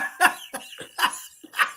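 A person coughs in four short, harsh bursts spaced about half a second apart, close and fairly loud, with no other sound between them.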